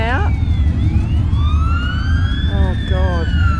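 Wailing sirens from fire brigade, ambulance and police rescue vehicles rise and fall loudly, close by and approaching a motorcycle crash scene at a rally, over a constant rumble of engines and background noise.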